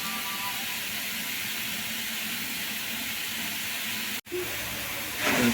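Beetroot sautéing over a low flame for halwa gives a steady, close hiss of soft sizzling that runs throughout, with a brief dropout near the end.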